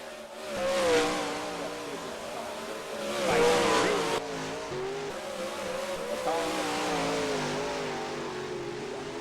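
Dirt late model race cars at Riverside roar past through the final corner, engines surging loud and fading in two passes before settling into a sustained drone, with an announcer talking over them.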